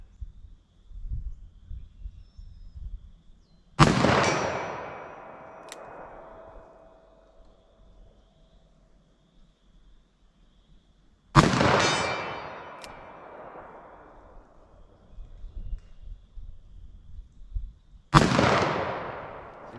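Three single loud blasts from a Winchester Big Bore lever-action rifle in .44 Magnum, spaced several seconds apart, each a sharp crack with a long booming, echoing tail on an outdoor range.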